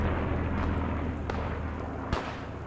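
A Stuka dive bomber's bomb hits in a video game battle: a dense, rumbling roar of explosion noise with a few sharp cracks cutting through, loud and close, with no one talking.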